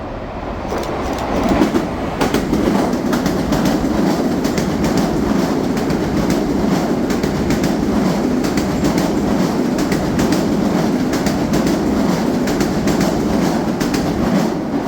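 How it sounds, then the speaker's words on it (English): A Metro-North express train thunders through New Rochelle station without stopping, a steady loud rumble of wheels and rail clatter filling the whole stretch, with no talk. "yet another express train appears out of nowhere"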